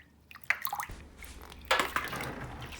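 Water splashes and drips as soaked soya beans are washed by hand: scattered wet squishes and trickles, fairly close and soft, with no one speaking.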